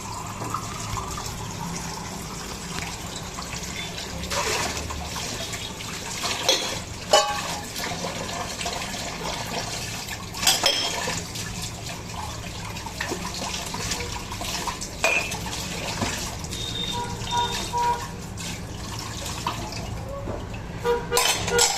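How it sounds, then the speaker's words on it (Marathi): Tap water runs steadily while dishes are washed in a home kitchen, with scattered clinks and knocks of utensils and vessels breaking through the continuous splashing flow. "चला आता मी भांडे धुवून घेते एवढे."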